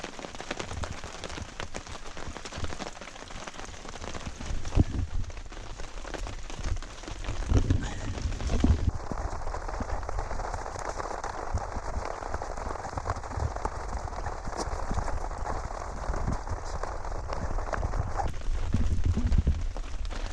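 Heavy rain falls steadily on a survival shelter during a downpour, a dense, even patter with no voices, holding constant for the whole stretch.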